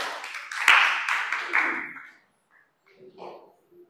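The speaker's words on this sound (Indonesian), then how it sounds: "Tepuk tangan untuk kelompok 4." A classroom of junior high students claps for a presenting group, a brief burst of applause lasting about two seconds, followed by quiet and a few faint voices.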